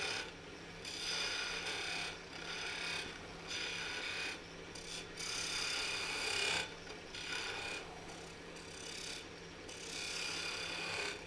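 A woodturning tool scrapes at a small nub on a wooden lidded box spinning on a lathe, giving a rough, continuous rasping with brief pauses and shifts in intensity.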